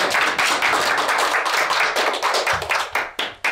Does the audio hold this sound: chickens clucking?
no